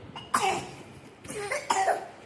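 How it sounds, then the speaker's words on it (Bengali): Child coughing close by, two bursts of coughs about a second apart, fairly loud and clear against a quiet room. "দেখেছো কাশি হচ্ছে, কাশছে।"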